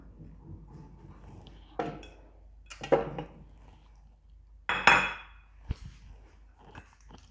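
A bowl of cheese and charcuterie with parsley, garlic powder, salt and pepper is mixed by hand, giving a few sharp clinks and scrapes of a utensil against the dish. They come at irregular intervals over a quiet background.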